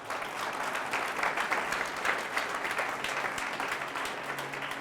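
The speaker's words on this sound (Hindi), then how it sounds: "क्यों ना प्रभु के लिए ताली" A church congregation applauds the Lord during a Hindi sermon, steady dense clapping filling the whole stretch at moderate volume with no voices over it.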